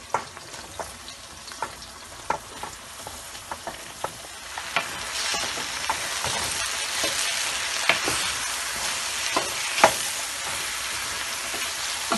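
Ridge gourd (turai) frying in a pan, a steady close sizzle broken by sharp crackles and pops, with occasional stirring scrapes growing busier toward the end.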